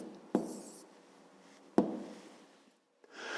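A pen scratches down an answer on paper for a fifth-grade maths exercise, two short quiet strokes separated by pauses, faint and close, no talk.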